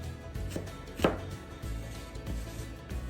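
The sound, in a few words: knife slicing an onion on a cutting board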